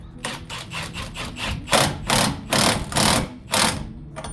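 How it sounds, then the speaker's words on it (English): A wrench with a 32mm socket tightens the rear drive axle nut on a 2006 Subaru WRX AWD, making loud, rhythmic ratcheting bursts, about a dozen in quick succession, close by. "Reapply your drive axle nut. Use your 32mm socket."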